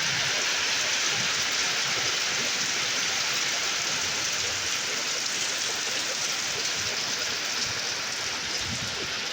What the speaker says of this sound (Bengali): দেখেছো কি জোরে বৃষ্টি হচ্ছে।